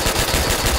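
Rapid automatic rifle fire in Call of Duty: World at War, a dense, loud burst of close shots with no pauses throughout.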